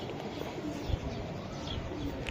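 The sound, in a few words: racing pigeons cooing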